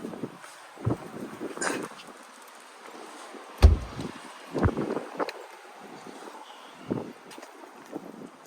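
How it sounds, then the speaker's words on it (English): Strong gusty wind outdoors in Colorado buffets the microphone in scattered low rumbling bursts over a faint steady background. "it's very windy outside today in Colorado"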